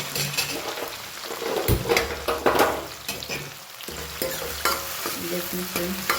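Spinach and other food frying in a pan over a full gas flame are stirred and mixed, with steady sizzling under repeated scraping and stirring strokes, loud and close throughout.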